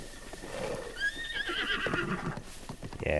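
A horse neighs and whinnies in Zelda: Breath of the Wild, a loud, drawn-out whinny in the middle with hoof clip-clops and game sounds around it.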